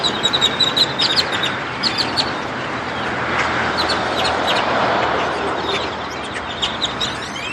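A flock of birds gathering outside a Church's Chicken restaurant, chirping and calling with many short overlapping tweets over a steady background hum of outdoor noise.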